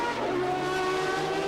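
A sports car in the 2001 FIA Sportscar Championship at Monza locks its brakes braking into the chicane, giving a loud, sustained engine roar with tyre noise over the full moment.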